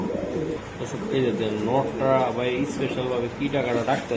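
Pigeons at a Bangladeshi pigeon market, including Spanish pouter, Lahori, Sirazi and racing birds, coo and burble over steady chatter nearby, with people talking loudly throughout.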